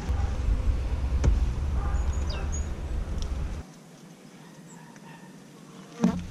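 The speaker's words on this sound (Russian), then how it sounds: "Пчел-то больше стало." Dense, continuous buzzing of many honey bees at an apiary hive during spring work, close and steady, with a low background rumble that drops out partway through and a brief thump near the end.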